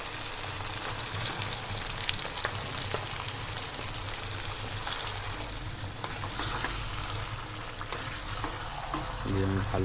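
Large pieces of chicken with ginger and onion fry in a pan, a steady soft sizzle throughout at low level, with a faint voice and some stirring.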